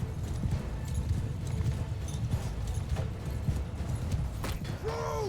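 Horse hooves clop in a steady rapid rhythm in Mount & Blade II Bannerlord, mixed with clattering battle sounds and a brief whinny-like cry near the end.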